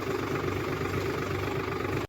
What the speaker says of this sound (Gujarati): તમને બતાવીશ આપણું રોટાવેટર કેવું હાલે એમ.